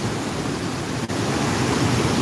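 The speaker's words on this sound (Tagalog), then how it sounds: "nakikita nyo po ang naglalaki ang alon na talaga namang super ang lakas" A storm surge sends heavy waves crashing at Nato Port in Sagñay, Camarines Sur, making a loud, steady roar of surf that hardly drops off, with no talk over it.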